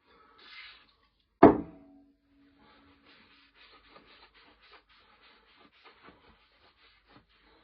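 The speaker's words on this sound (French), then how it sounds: "Je profite avec la brosse pour enlever les éventuels résidus de poudre qu'il y a dans les endroits où j'arrive pas à accéder avec le chiffon." A brush scrubs powder residue from a Walther PDP pistol as soft, quiet bristle scratches in a loose series of short strokes, after a single sharp knock near the start.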